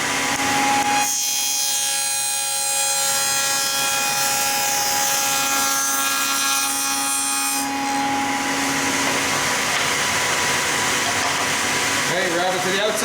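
Table-mounted power saw fed through drawer wood, cutting a rabbet and dado: a steady, loud whining hum of the blade with a rougher rasping cut through the board, winding down near the end.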